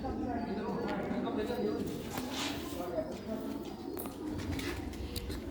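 Pigeons on a Sialkot rooftop coo repeatedly in low, soft rolling calls close by, with people talking over them throughout.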